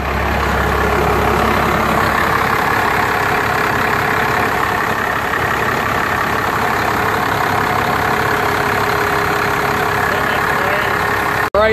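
Diesel engine of a 1990 Ford F250 with a Cummins 5.9L idling after an oil change, a loud, steady, close-up rumble that holds evenly for over ten seconds with no talk over it.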